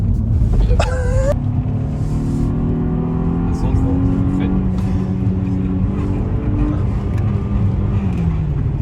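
A 2009 Mercedes CLS 350 CGI with a 3.0 V6 engine of 300 horsepower accelerates from inside the cabin, its engine note climbing and surging steadily under a loud road rumble, with someone speaking over it.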